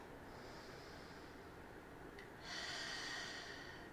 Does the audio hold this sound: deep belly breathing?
yes